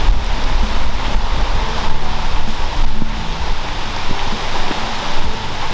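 Cold rain falls outdoors at Ginnie Springs, a Florida natural spring by the Santa Fe River, making a steady, unbroken hiss with no one speaking.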